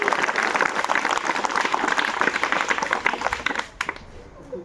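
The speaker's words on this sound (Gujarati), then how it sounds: "આમના માટે ફરી વાર એક તાળીનો ગણગડાટ" Sustained applause from the audience at a village school prize-giving ceremony for students, dense clapping throughout that thins out and fades near the end.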